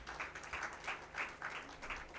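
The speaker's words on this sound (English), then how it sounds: "A round of applause for that." Brief applause from an audience at a women's investment event, faint and distant, a soft even patter of clapping with a slight rhythmic swell.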